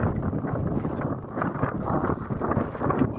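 Steady broadband wind rushes outdoors by Kervenheim lake in open farmland, with a continuous blustery roar across the microphone and no speech.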